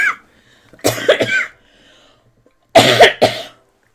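Two bursts of coughing, each a quick pair of harsh coughs, close and loud with silence between them.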